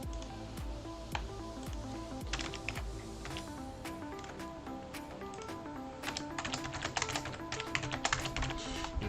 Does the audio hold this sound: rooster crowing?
no